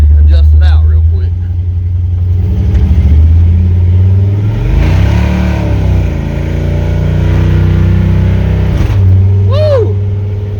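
A Chevrolet C10 truck revs hard and accelerates with a loud, close engine roar, the pitch rising and dropping as it shifts gears sharply, while a voice speaks over it.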